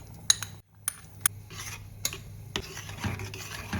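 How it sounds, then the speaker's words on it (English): Homemade baked beans in a cornstarch-thickened sauce being stirred in a pot: a spoon clinks against the metal a few times and scrapes softly through the thick mixture. The sounds are quiet and close, with no talking. "Now mix and cook until your desired consistency."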